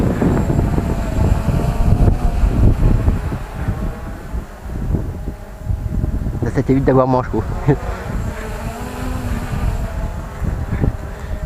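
A Bugs 3H quadcopter drone hovers overhead outdoors in the wind, giving a steady insect-like buzz throughout with some gusty rumble, while a person talks nearby.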